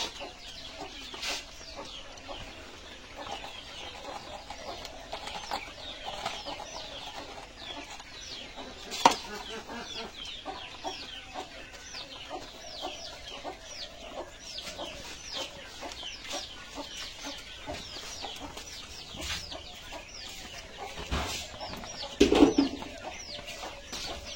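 A flock of poultry birds clucks continuously while being fed, many overlapping calls at steady close range, with a brief louder flurry near the end and no talking, on a goat farm.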